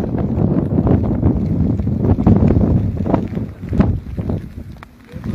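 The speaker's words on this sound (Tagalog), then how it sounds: "Sa lakas ng hangin at nararanasan na eto pa" Strong wind from Typhoon Enteng roars and buffets the microphone continuously in Navotas, Philippines, with gusty surges and low rumbling, loud and close throughout.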